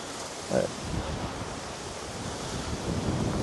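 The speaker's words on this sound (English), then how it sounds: "It's windy. It's holding up on the tripod so far with this wind. That's a big gust." Wind rushes continuously across an open dry lake bed at Zzyzx Road, buffeting the microphone with a few stronger gusts swelling and easing.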